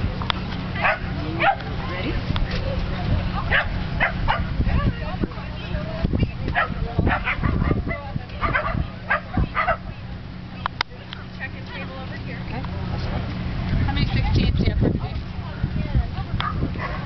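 A dog barks and yips repeatedly in short bursts over a steady background hum, with people talking throughout.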